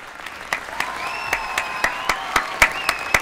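In the video game Hogwarts Legacy, bursts of crowd applause and cheering swell repeatedly over a steady murmur, with a sustained synthetic tone running underneath.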